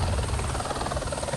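A water-bombing firefighting helicopter thudding steadily overhead, its dense rotor chop loud and continuous, with no other sounds breaking through.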